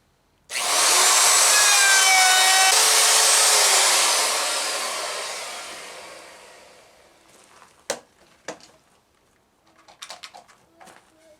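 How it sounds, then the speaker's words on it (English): A 3/8 inch roundover router bit cuts the edge of a wooden deer antler mounting plaque with a loud, steady high-pitched whine for about four seconds, then spins down and fades, followed by a few faint knocks and handling sounds. "I'm just going to get like a 3/8 inch roundover with the router,"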